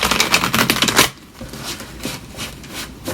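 Tarot cards riffle and flutter in a dense, rapid burst, then continue as softer intermittent shuffling and sliding, close and steady.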